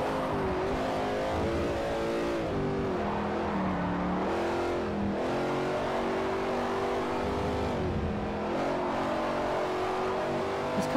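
A Mercedes race car engine in Forza Motorsport 4 revs hard and loud, climbing through gears with repeated rising pitch and short drops at each shift, steady and close throughout.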